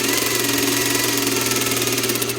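Sewing machine running a small, tight stitch to sew and backstitch a welt pocket: a steady, close mechanical whir with a fast, even rhythm and no break, with no voices.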